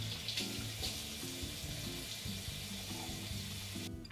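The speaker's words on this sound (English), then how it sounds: "then I'll wash it with water" Steady broadband rush of water running from a tap, continuous and fairly close, with a low rumbling hum underneath throughout.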